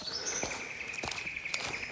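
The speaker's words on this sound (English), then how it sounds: "Ah, those birds are beautiful." Birds chirp and call faintly through a national park forest, thin high notes repeating steadily over quiet background with soft footsteps.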